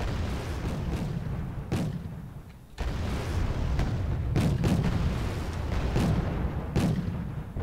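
Artillery and gunfire in the war game Wargame: Red Dragon, set in a 1987 North Korean assault on Busan, with repeated heavy booms and sharp shots landing at irregular intervals over a rumbling battlefield din.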